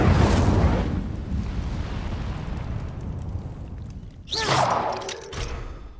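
The Incendio fire spell cast in Hogwarts Legacy: an initial fiery burst fading into a roaring rumble, then a second whooshing flare of flame about four seconds later.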